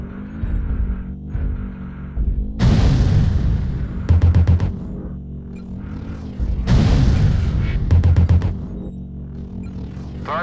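Artillery strike explosions in a video game: two heavy, loud booms a few seconds apart, each followed by a quick rattling burst of smaller blasts over a low, constant rumble.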